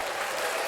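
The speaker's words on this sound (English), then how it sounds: "Let's give him a round of applause." A short burst of applause for a podcast guest, a brief even wash of clapping with no pauses.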